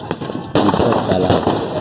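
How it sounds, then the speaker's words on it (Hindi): Fireworks burst over a lake during a festival, a dense crackling and popping barrage that swells loudly after a brief moment and continues steadily, with a voice talking over it. "आप वीडियो में आतिशबाजी देख रहे हैं, उस दिन बहुत बड़ी आतिशबाजी भी होती है।"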